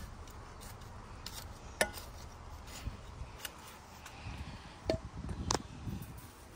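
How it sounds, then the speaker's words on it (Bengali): A few scattered scraping chops into backyard garden soil with pauses between them, the strikes growing busier toward the end, over a low outdoor background. "একটু মাটিটা খুঁড়ে দিচ্ছি"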